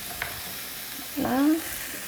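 Vegetables and bitter melon stirred in a pan, a short scraping swish with faint sizzle, alone and fairly quiet.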